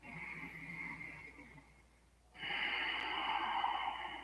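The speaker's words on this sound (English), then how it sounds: "Pause, take a breath." A person takes an audible breath during a pause in a yoga spinal twist, a soft airy inhale that fades to near silence before a louder, longer breath swells up and holds steady.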